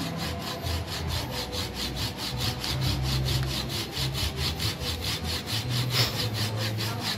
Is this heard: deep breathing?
no